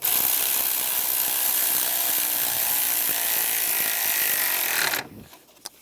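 A ratchet works on an exhaust clamp of a Chevrolet Cruze during catalytic converter replacement, giving a steady close rasping and clicking that continues for several seconds, then stops abruptly.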